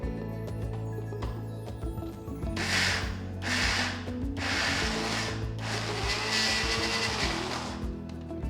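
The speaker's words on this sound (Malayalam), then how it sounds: "ഇതേപോലെ ബാക്കി ഉഴുന്ന് അരച്ചെടുക്കുക." A kitchen mixer grinder grinds soaked urad dal with a steady motor hum, swelling into loud whirring pulses as the blades churn the batter in several bursts, close and alone.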